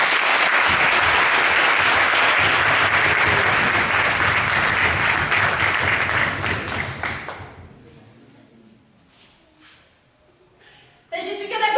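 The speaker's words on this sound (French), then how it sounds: "Donc on peut l'applaudir." Loud, dense applause from an audience for a black-belt kata demonstrator at a martial arts demonstration, fading out after about seven seconds into a quieter hall with faint voices before a sudden sharp sound returns.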